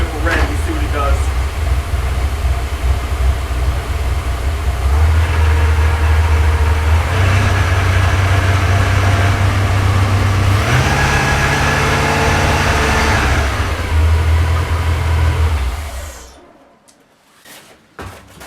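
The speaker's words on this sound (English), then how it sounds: "Give it a little rev and see what it does." A loud Porsche 928 V8 engine idles, then revs up in several rising and falling surges, holding a deep rumble before dropping away near the end.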